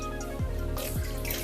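Water poured from a glass for a cooking recipe, a close, steady liquid trickle with small splashy surges and gurgles over a constant background hum.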